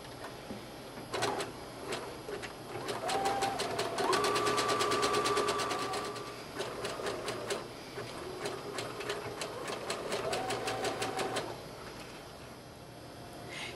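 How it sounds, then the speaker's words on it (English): A sewing machine runs zigzag stitching along seam edges, producing a quiet rapid ticking and whirring in two stretches, with a faint rising motor whine as it speeds up and slows. "Now we'll finish those edges with the zigzag stitch."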